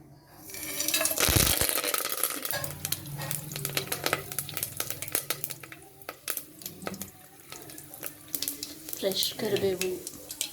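Spices for tempering crackle in hot oil inside a pressure cooker on a stove, a steady busy sizzle with sharp pops and clinks, loudest early on and continuing throughout.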